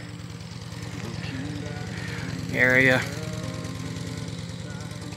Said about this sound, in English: Sorry about the noise. There's one with a motorcycle running over here.